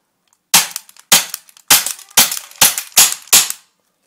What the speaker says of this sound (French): on appuie sur la gâchette